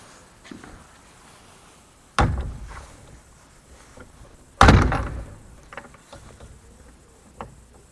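An outward-opening church door sounds two heavy wooden thuds a couple of seconds apart, the second louder and ringing briefly, with small creaks and clicks between them in a quiet, reverberant interior.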